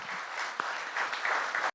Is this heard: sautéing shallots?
no